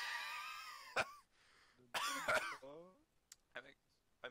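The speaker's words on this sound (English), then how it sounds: "I make myself cough every single time I do that." A few throaty coughs and throat clearing, close and fairly quiet, with a strained wheezy voice in between.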